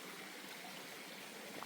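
A stream of water trickles and babbles steadily at a campsite water source along the Appalachian Trail in North Carolina, a continuous close, bright rushing wash with no voices.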